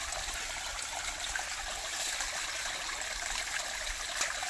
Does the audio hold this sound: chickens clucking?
no